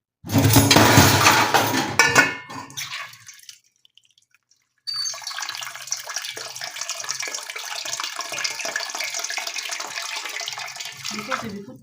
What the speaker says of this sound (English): let me put some water up to where the level of these peelings are